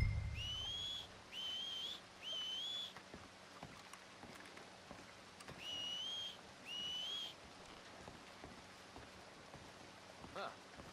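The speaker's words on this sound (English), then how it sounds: "Make a noise, whistle or something." Whistling in the video game Red Dead Redemption 2: a two-note whistle repeated in three clear, evenly spaced bursts, a pause, then two more, over quiet rain-like ambience.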